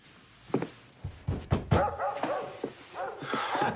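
A dog barks in a few short, muffled bursts, as if muzzled or hoarse, spaced across a few seconds with faint whimpers between, fairly close and with no speech over it.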